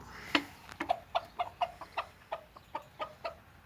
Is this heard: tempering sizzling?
no